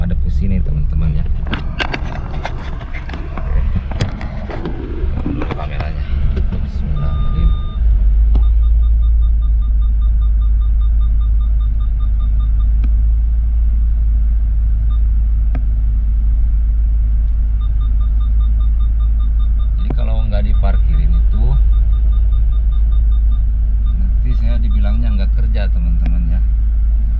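Car engine idling with a deep, constant low rumble while the vehicle is turned around and parked, joined by scattered knocks and thumps and brief beeps, with people talking over it.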